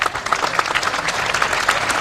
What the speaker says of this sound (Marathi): टाळ्या वाजवल्या तुम्ही